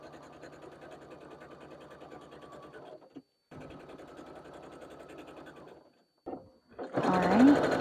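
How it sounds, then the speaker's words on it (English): A sewing machine top stitches fabric onto vinyl in two steady runs separated by a brief pause, close and even, before a voice speaks over a final short burst. "I'm just going to top stitch."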